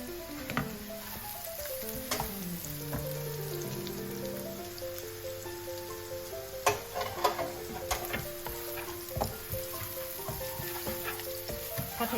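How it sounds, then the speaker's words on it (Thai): Minced pork sizzles with garlic in a hot pan for lasagna, a steady crackling fry with occasional scrapes and clinks of the spatula as it is stirred. "ใส่หมูสับลงไปผัดด้วยเลยจ้า"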